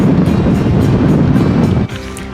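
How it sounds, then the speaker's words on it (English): Strong wind buffets the microphone in a loud, steady roar in the old town of Rhodes, Greece, easing slightly near the end. "It's so bloody windy."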